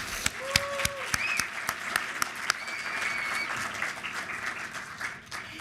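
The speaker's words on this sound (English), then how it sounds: "Please join me in giving her one more round of applause." A graduation ceremony crowd at UGA Griffin gives a round of applause, a steady wash of many hands clapping at moderate distance, with a few sharper individual claps popping out and brief whistles over the top.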